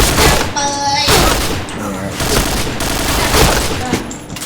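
Gunfire from the video game Point Blank, loud bursts of automatic shots that run almost without pause, with one short rapid rattle near the start and heavy thumps throughout.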